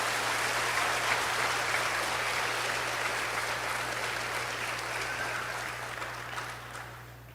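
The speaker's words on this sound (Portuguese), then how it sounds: "Se está me ouvindo, pode aplaudir Nossa Senhora." A church congregation applauds during a Portuguese-language sermon, a dense, sustained wash of clapping from many hands that fills the room and gradually fades toward the end, with a low steady hum underneath.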